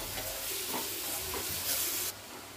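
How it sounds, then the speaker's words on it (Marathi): Grated raw mango is stirred into onion frying in a pan over low heat, a close, busy sizzle with scraping spoon strokes that drops in level at the end, no voices. "आता हे आपण खिसून घेतलेला कैरीचा खिस टाकायचं आणि एकदा चांगलं असं मिक्स करून घेऊया।"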